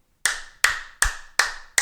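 Five sharp hand claps at an even, moderate pace, close and crisp with brief decays between each, no voices.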